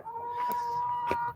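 A Buff Orpington rooster named Jaxson gives a single drawn-out, nasal call at close range, sustained and steady for about a second.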